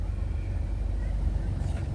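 A Nissan Maxima engine idles as it warms toward operating temperature, giving a close, steady low rumble with a faint pulsing throb throughout.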